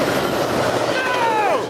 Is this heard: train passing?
yes